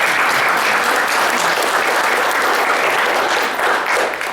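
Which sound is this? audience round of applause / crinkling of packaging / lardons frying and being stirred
audience round of applause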